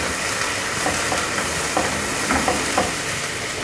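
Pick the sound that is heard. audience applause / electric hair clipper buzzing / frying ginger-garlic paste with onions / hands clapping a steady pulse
frying ginger-garlic paste with onions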